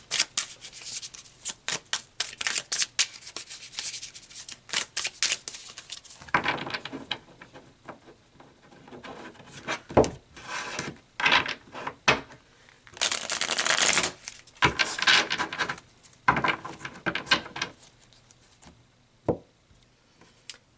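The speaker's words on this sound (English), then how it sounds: "So let's pull some more cards" A deck of tarot cards being shuffled and pulled, with crisp riffling and rapid flicking bursts, soft taps and card slaps close up, coming in irregular clusters throughout.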